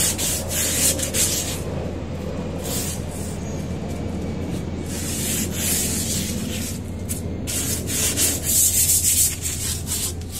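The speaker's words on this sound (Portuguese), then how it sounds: "aí vem o processo de lixar por fora." Steady, gritty rasping of sandpaper worked over a cement surface, continuing in long strokes for the whole stretch with no talking.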